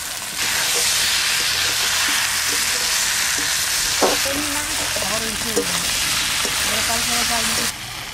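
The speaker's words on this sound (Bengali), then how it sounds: "এবার ইঁচড়টা দিয়ে দেবো। সবই ভেজে ভেজে রাখছিলাম, এবার দিয়ে দিচ্ছি সব।" Jackfruit and potatoes frying in spiced oil in a pan for a Bengali echor kalia, a loud constant sizzle and hiss with stirring scrapes and clinks throughout.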